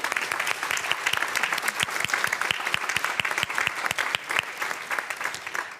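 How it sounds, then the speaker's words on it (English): An audience applauds speakers at a conference on women, gender and identity in peace and security, a dense, steady clapping from many hands lasting several seconds, close and fairly loud. "I would invite you to give a round of applause to our speakers and a warm welcome as well"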